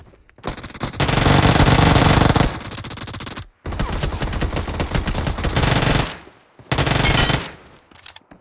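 Rapid automatic gunfire in PUBG Mobile comes in three long, loud bursts of sustained shooting, separated by short silent gaps, with the last burst briefer than the first two.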